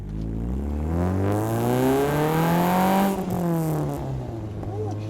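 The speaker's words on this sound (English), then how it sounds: "You get that little zing at the end, so it's like the revs go up, and then as you put in the clutch, like whoop, and they go like zing" A Chevrolet engine revs up through a first-gear pull, its pitch climbing steadily and then dropping sharply as the clutch goes in, followed by a settling idle with crackly burble, loud and close.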